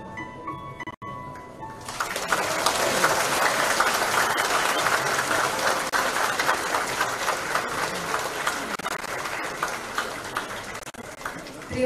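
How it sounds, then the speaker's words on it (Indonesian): Sustained, loud applause from an audience at a formal Indonesian ministerial handover ceremony, beginning abruptly after a brief pause and continuing steadily as dense, even clapping to the end. "Kembali kita sambut dengan tepuk tangan yang meriah"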